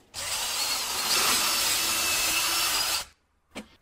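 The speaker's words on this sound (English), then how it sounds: "Now I need to drill a larger hole for the body of this." A power drill bores a larger hole into wood to seat the body of a T-nut, a steady loud whir with grinding texture running for about three seconds, then stopping, followed by a brief faint knock.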